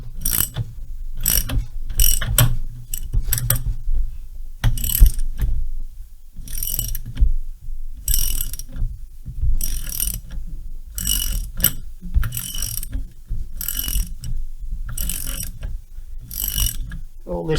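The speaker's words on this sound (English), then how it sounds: "I'm just going to get the socket." Ratcheting socket wrench clicking in repeated bursts on a Stihl 070/090 chainsaw, close and loud, with short pauses between each run of rapid pawl clicks and no talking.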